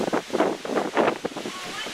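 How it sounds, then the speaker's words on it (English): Gusty wind on a breezy day outdoors at a lodge pool area, buffeting the microphone in uneven bursts with a rushing, surf-like roar, fairly close and loud. "it was a rather breezy day when we were taking this video"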